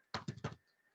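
A short burst of typing on a computer keyboard gives three or four quick, close taps with nothing else around them.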